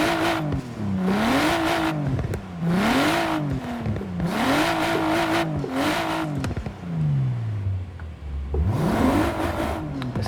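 A BMW M4 Coupe engine revs repeatedly and loudly up close. Each rise and fall in pitch comes in a rhythmic series of swells, with a long rev-down near the end before one last climb. No one speaks.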